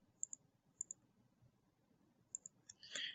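A computer mouse gives quiet, close paired clicks, three quick double-clicks spaced apart while items are selected, followed by a brief soft rustle.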